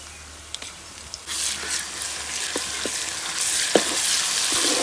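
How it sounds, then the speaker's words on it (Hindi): Ginger garlic paste dropped into a pan of browned onions, the faint background hiss jumping to a loud, bright sizzle that swells again near the end, with scattered clicks of stirring nearby. "अब इसमें डालेंगे अदरक लहसुन का पेस्ट।"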